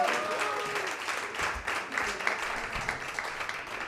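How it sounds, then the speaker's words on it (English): Crowd applause in a comedy club during a live show, a moderate wash of clapping from the audience, a little distant and fairly even throughout. "Give him another round of applause"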